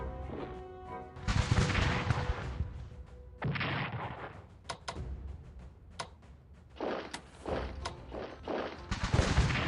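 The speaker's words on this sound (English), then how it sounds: "We'll use all of our artillery against it to reduce its effectiveness as much as possible." Artillery bombarding a fort during the Battle of Metz in a Franco-Prussian War strategy game, a series of broad booming blasts and rumbles of varying length, fairly quiet overall with sharp ticks in between.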